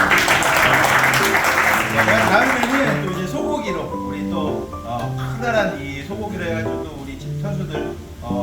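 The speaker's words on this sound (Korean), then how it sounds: "이 타이밍에 박수 좀 나와야 돼요" A short burst of group clapping at a football club's winter training camp gathering, loud and close for about three seconds, then it gives way to talking and background music.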